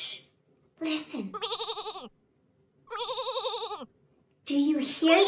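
Sheep in a barn bleat in two distinct quavering cries, near and clear, framed by brief bits of cheerful adult talk before and after.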